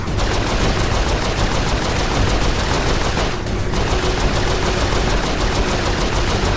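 Sustained turret machine-gun fire from the Saints Row IV video game, a loud continuous rattling barrage over several seconds with a brief dip midway, no talking.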